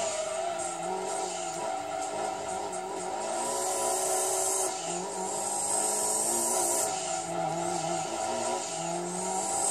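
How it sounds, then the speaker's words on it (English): Race car in Gran Turismo 2 on an endurance race, its engine note rising and falling through gear changes while tires squeal in long sliding bursts through corners, loud and continuous. "spin the tires"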